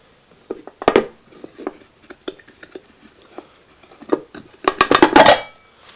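A camping mess kit of metal pans and a lid clatters and clinks in scattered taps, building to a louder burst of rattling near the end, handled close up without speech.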